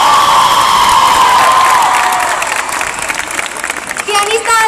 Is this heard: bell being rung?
no